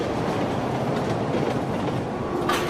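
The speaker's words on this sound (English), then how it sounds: "We can hear the subway cars on the tracks, doors opening and closing." New York City subway cars roll along the tracks with a steady, dense rumble and clickety-clack, loud and continuous, with a brief squeal near the end.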